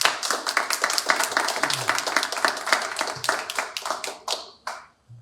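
A church congregation claps at the start of a worship service, giving a strong round of applause. The sharp individual claps are close and fairly regular, slowing and thinning into a few last claps at the end.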